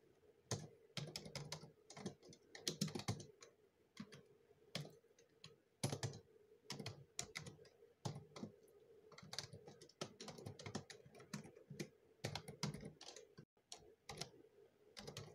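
Close, rapid keystrokes on a computer keyboard while code for a Vue.js shopping cart is written, in irregular clicking bursts with short pauses and no talking.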